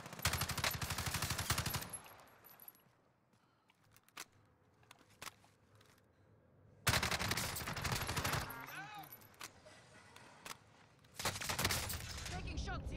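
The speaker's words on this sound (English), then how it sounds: "Taking shots here." Automatic gunfire in Call of Duty Warzone Rebirth, with loud bursts of rapid shots at the start, middle and end, separated by quieter stretches with occasional single shots and footsteps, while players talk.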